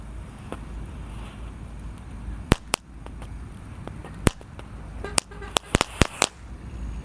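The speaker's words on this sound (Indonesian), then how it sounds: "Sudah menyala bosku, mercon tank Thor" Sharp firecracker pops and snappy crackles from a spinning ground tank firecracker burst out irregularly at night, clustering toward the end over a low background hiss.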